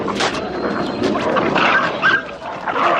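Drug-sniffing dogs in Uzbekistan bark and yelp during a training exercise, a dense, continuous chorus of overlapping barks with whimpers, loud and close throughout.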